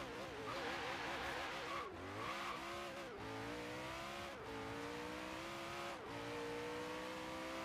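Acura NSX fitted with a Koenigsegg engine swap in Forza Horizon 3, revving hard through repeated gear changes, a loud rising engine note that climbs, drops at each shift and climbs again, with no talk.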